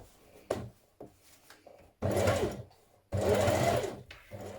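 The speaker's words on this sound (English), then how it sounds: "Now top stitch around your neck edge and your armhole edge, 1/2 centimetre from the edge of your garment." A home sewing machine top stitches the neck and armhole edges of a child's jumpsuit in two loud, steady bursts of about a second each. Softer handling noises of fabric and the machine come between and around the bursts.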